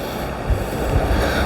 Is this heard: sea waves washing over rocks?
yes